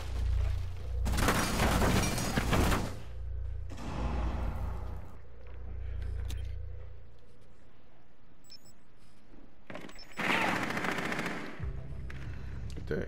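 Bursts of rapid automatic gunfire in Rainbow Six Siege, loud close volleys at the start, a quieter stretch in the middle, then another sharp burst of shots near the end.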